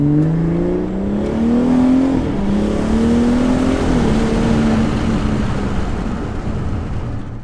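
A BMW 340i engine revs and pulls while driving, a loud sustained drone with the pitch climbing through gears, dipping at a shift and rising again, heard from inside the car with no talking.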